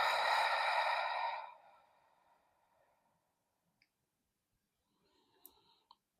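A long, slow exhale during a yin yoga stretch, close and soft, fading into near silence, followed by a few faint clicks and a quieter breath at the end.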